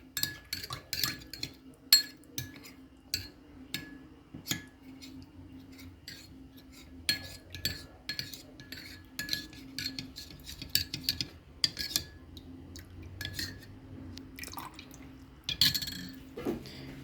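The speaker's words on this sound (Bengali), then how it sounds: "দুই টেবিল চামচ কর্নফ্লেক্স দিলাম গুলায় নিচ্ছে দেখেন" A spoon stirs cornflour into water in a bowl to thicken a Thai soup, giving a steady run of light, quick clinks and taps against the bowl, close and fairly quiet, with no voices.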